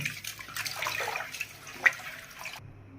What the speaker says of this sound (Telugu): బియ్యం బాగా కడిగేసుకుంటున్నాను